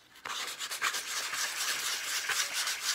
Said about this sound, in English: I wouldn't be sanding the sides, but I would still be sanding this flat spot.